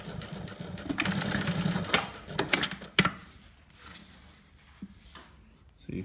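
A Juki LU-2810-7 walking foot lockstitch sewing machine runs in rapid stitching bursts, then a sharp single pop from its pneumatic solenoid, followed by quieter mechanical clicks with a voice faintly underneath.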